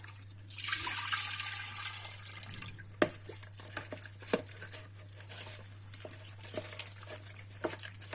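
Tap water runs and splashes in a sink while homemade butter is washed under it, a brighter rush at the start settling into irregular drips and patters, close and fairly quiet.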